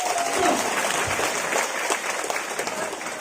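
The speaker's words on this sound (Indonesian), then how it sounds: "Tepuk tangan dulu." Audience at a religious lecture in Gumelem Wetan, Banjarnegara, breaking into sustained applause, a steady crackling wash of many hands with a faint crowd murmur.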